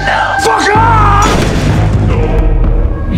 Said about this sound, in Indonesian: dengan satu kali tembakan saja, Tommy pun akhirnya tewas